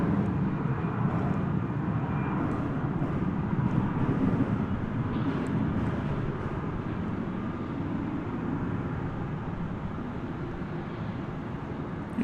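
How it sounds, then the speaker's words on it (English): Passenger airplane taking off at night from a DFW airport runway, a continuous distant jet roar holding steady throughout, with faint intermittent clicks but no talking. "See how much earlier that plane took off than the preceding one."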